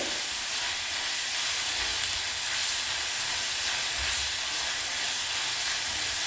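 Onion and tomato sizzle in a pan, a steady close hiss running alone throughout with no talk.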